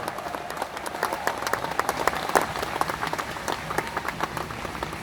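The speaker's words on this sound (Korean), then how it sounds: "더욱 힘찬 박수와 함성" At the inauguration ceremony for the 37th executive head of the Jogye Order of Korean Buddhism, a large gathering keeps up sustained, fairly distant applause with sharp individual claps throughout.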